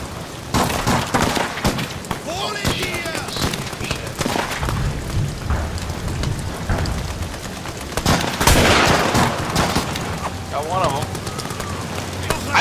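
Gunfire in the horror video game Amnesia: The Bunker, sharp shots and booming bursts over game ambience while a player talks excitedly throughout.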